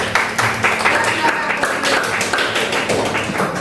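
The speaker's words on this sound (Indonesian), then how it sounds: "Tepuk tangan sekali lagi" Classroom audience applauding after a group presentation in a teacher training session, a brisk, steady patter of many hands clapping with some voices underneath.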